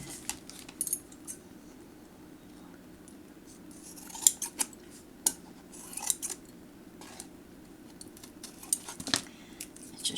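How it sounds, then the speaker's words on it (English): Scissors snipping off excess paper in a craft memory book, a string of quiet crisp clicks and cuts spaced irregularly, close with no talk. "we don't really need to cut off the excess,"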